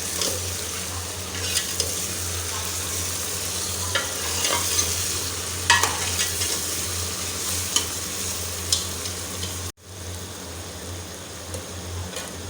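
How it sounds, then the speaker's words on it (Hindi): Ginger garlic paste frying in a pan while haleem is being cooked, heard as a continuous sizzle with repeated stirring and scraping of a utensil against the pot, close and fairly loud, with a brief dropout near the end. "अब इसे फ्राई कर लेंगे हम अच्छे से अदरक लहसुन का पेस्ट डालने के बाद"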